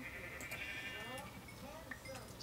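Sheep bleating in the Minecraft video game, several short nasal bleats spread across the stretch over a steady background hum, with someone talking in between.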